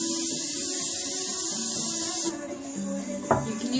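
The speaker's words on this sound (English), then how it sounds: "You put in your cooking spray so your food does not stick to the pan." Cooking spray hisses steadily from an aerosol can onto a cake pan being greased for a chocolate flan cake, one long continuous spray followed by a brief clatter of handling near the end.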